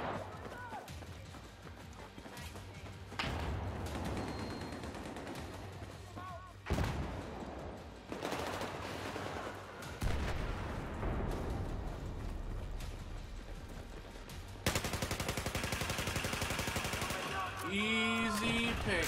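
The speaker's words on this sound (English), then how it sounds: "I'm getting sniped at right now" Battlefield 4 gameplay with bursts of gunfire and sharp sniper shots cracking across a busy battlefield, under frequent talking and in-game voices.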